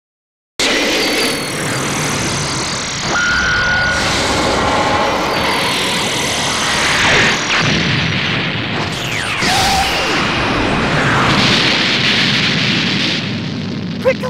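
Special Beam Cannon attack in the Dragon Ball Xenoverse 2 video game: a loud, continuous roaring energy blast with rising whooshes and crackling bursts, sustained for the whole stretch.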